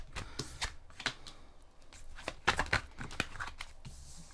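Tarot cards being shuffled and drawn by hand, a run of crisp papery riffles and slaps in a quiet room, with brief louder bursts mid-way and no talking.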